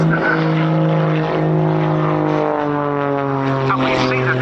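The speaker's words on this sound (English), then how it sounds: "So this aircraft has more thrust than weight, so it can climb forever, and it also has the capability of hovering." A hovering jet aircraft, apparently an F-35B, roars at an airshow display as a loud, steady engine drone with a sustained tonal whine, held throughout.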